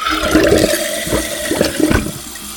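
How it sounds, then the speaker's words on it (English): A toilet flushing just after its float valve was replaced, with a loud, continuous rush and gurgle of water through the bowl lasting the whole moment, close up and with no voices. "I'm going to go ahead and flush it and see what happens."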